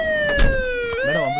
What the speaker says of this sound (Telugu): madam ambulance